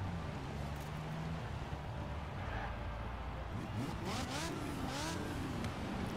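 Lego Ferrari F40 in Forza Horizon 4 launching hard, engine revving with rising and falling pitch sweeps over a steady rumbling drone, moderately faint under constant game noise.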